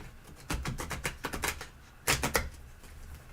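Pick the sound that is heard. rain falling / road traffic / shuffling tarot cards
shuffling tarot cards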